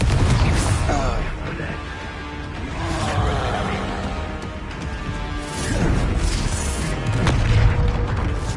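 A Confringo blasting spell goes off in a video game, booming with deep rolling rumbles and crashing bursts that swell and recede over several seconds, with a voice speaking over part of it.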